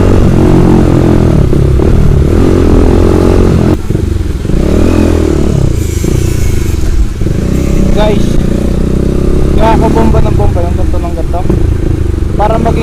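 A Bajaj Dominar 400 motorcycle engine revs loudly and close, with a rumbling idle between repeated throttle blips and rising surges, while someone talks over it throughout.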